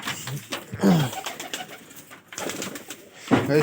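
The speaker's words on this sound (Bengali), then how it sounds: "আমরা সবাই ঢুকে পড়ছি আমার কবুতর ঘরের ভিতরে চলো ঢোকা যাক" Pigeons inside a pigeon loft give soft, throaty coos, several overlapping calls close by, amid a faint rustle of the enclosed room.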